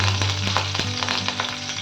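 Curry leaves sizzle and crackle in hot oil for a chutney tempering, a steady close frying hiss with sharp pops scattered throughout, under a low electrical hum.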